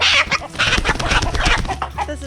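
A chicken with feather loss, being held in someone's hands, clucks and squawks loudly and agitatedly in rapid bursts at close range.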